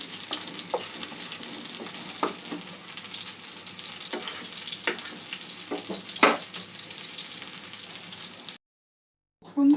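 Potatoes and eggplant fry lightly in oil with a steady, close sizzling hiss, broken by occasional spatula clicks and scrapes. There is no talking, and the sound cuts briefly to silence near the end.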